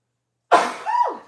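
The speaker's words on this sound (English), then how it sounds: "I think I'm gonna sneeze" A single loud, close sneeze erupts from silence, a sharp burst trailing into a breathy, voiced tail.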